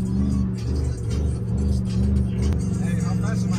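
A car with a TH400 transmission revs while driving, its engine a steady low rumble that rises and dips slightly, with a voice talking over it inside the cabin.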